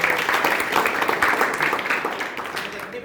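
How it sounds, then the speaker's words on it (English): Class 11 A students keep clapping in a broad, steady round of applause while someone speaks over it, the clapping thinning slightly toward the end. "Now you should also give a big round of applause to you."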